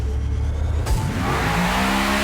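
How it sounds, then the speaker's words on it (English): A Lexus RC F Track Edition with a 5-litre, 599-horsepower engine spins its wheels at a race start: a loud engine roar rises in pitch with tire squeal and a rushing whoosh, close and continuous. "Lots of wheel spin from the Lexus"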